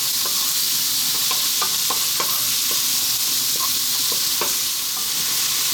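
Garlic and onions stir-frying in a pan over high heat, giving a steady loud sizzle with scattered scraping taps of the stirring utensil and no talk.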